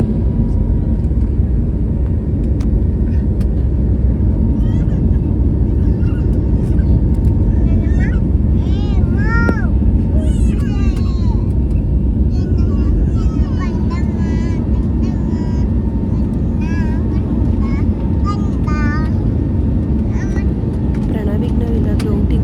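Steady broadband drone of an airplane cabin in flight on a trip to the Andaman Islands, continuous and fairly loud throughout, with voices and chatter running over the engine noise.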